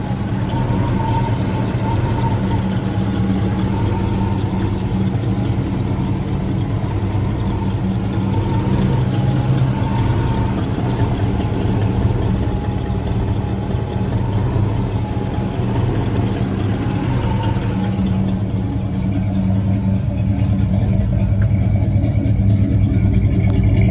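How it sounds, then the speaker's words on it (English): A 260 small-block Ford V8 in a 1963 Ford Ranchero idles steadily and close, a continuous low rumble with a slight uneven lope throughout, no voices. "It does have a 260 small block Ford engine underneath."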